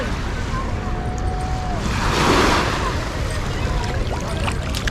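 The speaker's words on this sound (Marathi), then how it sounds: "एकदा एकदा लाट मोठी येते" Sea waves wash onto the shore at Girgaon Chowpatty beach in Mumbai, a steady surf rush with one swelling wave midway, mixed with wind and faint distant crowd noise.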